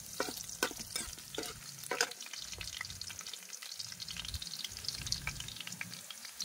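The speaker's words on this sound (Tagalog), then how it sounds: "igisa ko muna ang mga ricado para mas masarap po." Aromatics, onion among them, sauté in a hot pan for a pork leg and crab soup, a steady close sizzle and crackle with scraping stirs and light clatter, no voices.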